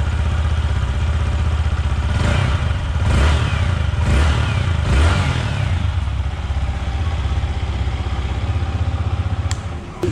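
Motorcycle exhaust note from a TVS Apache RTR 160 2V or Yamaha MT-15 v2.0, a loud close idle broken by several sharp throttle blips before settling back to a steady rumble.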